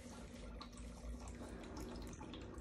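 A Petmate Fresh Flow II pet water fountain runs with a faint, steady trickle and splash of flowing water that continues without a break.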